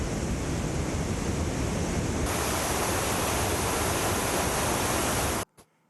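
Water overflows the full Panwal dam near Ratnagiri during heavy rain, a dense, steady rushing roar like a waterfall that swells slightly partway through and holds loud until it cuts off abruptly.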